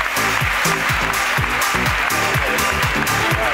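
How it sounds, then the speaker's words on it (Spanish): Steady audience applause at a live podcast show, dense clapping running throughout over a rhythmic low thumping pulse. "¡Aplauso para la reina de Alejandro!"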